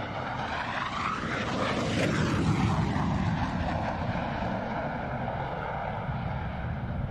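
An aerobatic airplane at the SUN 'n FUN 2021 air show roars past in a knife edge pass, its propeller engine loud and continuous with a rising then falling pitch as it sweeps by.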